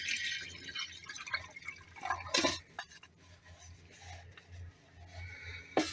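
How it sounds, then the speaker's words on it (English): A 16-ounce cup of water poured into a folding kettle inside a winter camper, heard as a soft, low trickle and splash with a few faint clinks, fairly quiet and with no talk. "we're going to take a 16-ounce cup of water, and we are going to put it into the kettle"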